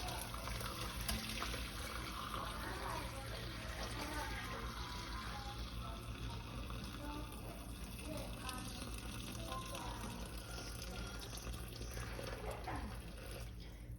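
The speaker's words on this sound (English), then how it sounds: "now I'm gonna pour it into the strainer, and make sure that you put a bowl underneath your strainer" Homemade bone broth pours from a pot through a strainer into a bowl, a faint, steady trickle and splash of liquid heard from close by at low volume.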